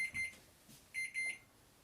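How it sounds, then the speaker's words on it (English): A kitchen timer rings while hummus is made, sounding as two short bursts of rapid, high electronic beeping, close and fairly faint, separated by a brief pause. "Turn our timer off there."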